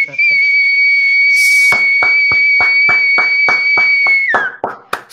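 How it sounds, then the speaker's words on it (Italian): Two loud, sustained whistle blasts ring out in celebration of a football championship, the first held steadily for several seconds before dropping in pitch, then a short final toot, with rhythmic claps or thumps beating underneath. "Vai col fischio!"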